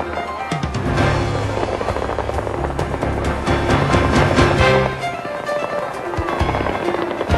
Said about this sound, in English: is to set off the fireworks and let our new Veterans Glass City Skyway speak for itself.